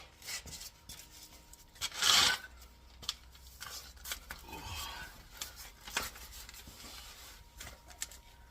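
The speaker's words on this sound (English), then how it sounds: "Still needs a little more deburring." A metal part is deburred by hand during an air-to-coil suspension conversion on a Saab 9-7X, giving intermittent rasping scrapes with one louder, harsher burst early on, close by and without talk.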